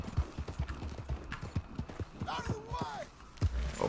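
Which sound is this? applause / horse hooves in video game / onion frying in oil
horse hooves in video game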